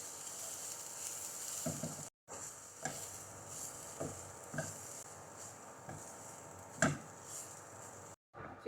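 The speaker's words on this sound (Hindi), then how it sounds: "सारे मसालों को सब्जियों के साथ अच्छी तरह से 1 से 2 मिनट भून लेंगे" Chicken, spices and vegetables sauté in a pan with a steady, soft sizzle, broken by periodic scraping stirs of a spoon and a couple of brief gaps.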